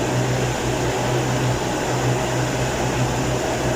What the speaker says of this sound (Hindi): और ये देखें सामने फ़ैन चल रहा है।